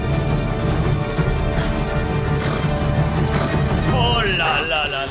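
Hooves clip-clop in a quick rhythm as a horse gallops in the video game Ghost of Tsushima, with the horse whinnying over the top while a voice talks over the sounds.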